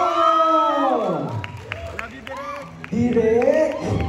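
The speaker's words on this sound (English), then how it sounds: "let's give a round of applause to Direk Crisanto Aquino!" A film-screening audience at a university greets an award-winning director with cheers and whoops, shouted voices rising over scattered claps in a lively crowd.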